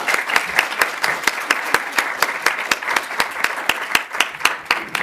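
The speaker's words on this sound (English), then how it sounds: "if you would all join me in a final round of applause for our speakers" Audience applause for conference speakers at a panel event on combating human trafficking, a steady, dense round of many hands clapping with a few sharp, prominent nearby claps standing out in an even rhythm.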